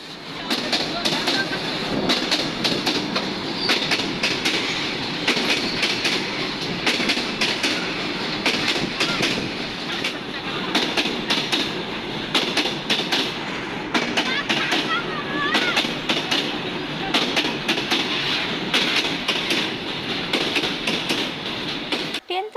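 A train rolls past close by over rails where a coin has been placed, a loud sustained rumble with rhythmic clickety-clack wheel beats that continue for over twenty seconds before ending abruptly.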